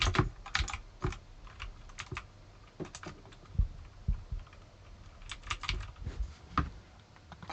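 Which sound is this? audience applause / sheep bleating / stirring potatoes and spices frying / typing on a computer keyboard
typing on a computer keyboard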